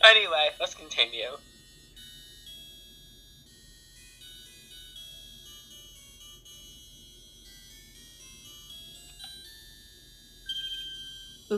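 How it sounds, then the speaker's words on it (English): Godot's phone ringtone in the Phoenix Wright: Trials and Tribulations video game, a thin electronic melodic chime that keeps playing quietly at length after a short burst of speech at the start, swelling again near the end. "Sorry, that's my phone."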